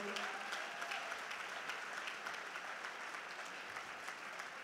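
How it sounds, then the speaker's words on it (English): A seated audience at a teachers' event keeps clapping after a speech, a dense, even patter of many hands holding steady throughout. "Can we keep the claps going?"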